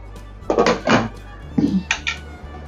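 A metal lid set onto a cooking pot of Bengali bitter gourd curry after the gas stove is turned off, giving two short bursts of clanking and rattling, close and fairly loud.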